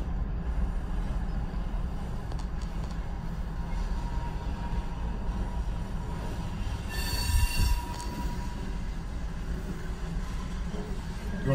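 A Canadian National freight train rumbles steadily past in Dubuque, Iowa, with a constant roar of wheels, and a brief high metallic squeal of wheels rises near the end.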